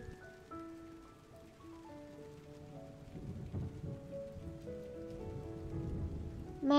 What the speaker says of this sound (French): Mais enfin, Choupi, tu vois bien qu'il pleut.